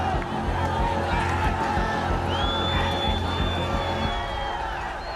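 A large, roaring crowd of protesters storming Nepal's parliament, dense shouting and cheering with whoops and a rising whistle-like cry, loud and sustained throughout.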